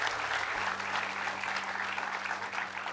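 Studio audience applause on an Indonesian TV entertainment show fills the room: steady, moderately loud clapping from many people, with a low electrical hum running underneath.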